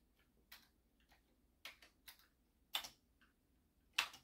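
A sticky spacebar on a Commodore C64C keyboard is pressed again and again, giving a handful of faint, irregular clicks and clacks in a quiet room.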